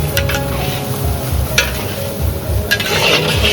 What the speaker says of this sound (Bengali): এইভাবে নাড়িয়ে চাড়িয়ে মাছের মাথাটা কষিয়ে নিতে হবে